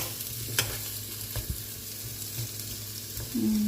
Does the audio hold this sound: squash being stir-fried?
yes